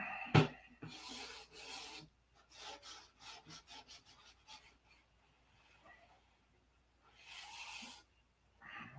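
Short scratchy sanding strokes rub superfill smooth on a P-47 Razorback scale model, coming in bursts of quick rhythmic passes with pauses between them, close and soft after an initial bump.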